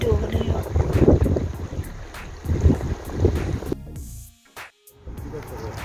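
Strong, cold wind buffets a microphone outdoors by the water, rumbling in heavy uneven gusts that drop away briefly near the end before returning.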